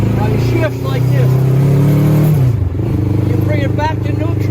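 The engine of a T-Rex three-wheeled vehicle drones steadily, rises briefly as the rider shifts gears, then dips and settles, with people talking over it throughout.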